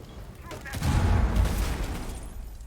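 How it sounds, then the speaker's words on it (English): In a competitive Rainbow Six Siege esports match, a muffled explosion booms and rumbles for about a second amid distant gunfire and game noise, under a commentator's voice. "Must have been a sudden explosion from underneath there."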